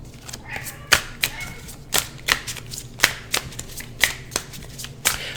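Tarot cards shuffled by hand in repeated crisp riffling bursts, roughly one sharp flutter every half second, close and fairly loud over a low steady hum.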